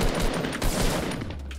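Bursts of gunfire in a Fortnite Battle Royale match, a dense continuous rattle of rapid shots that stays loud throughout, then eases slightly toward the end, with no voices over it.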